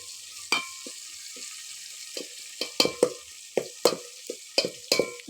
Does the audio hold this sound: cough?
no